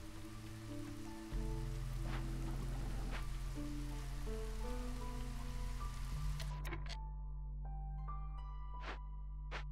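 Steady rain patters across the ambience of the city-building game Against the Storm, mixed with sustained musical tones and a few brighter droplet-like chimes later on, with no talking.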